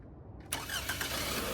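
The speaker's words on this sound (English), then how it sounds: "Okay, car should be ready to start. Try it." A Toyota Camry engine cranks and catches right after a starter replacement, a sudden loud start that settles into a steady close running drone.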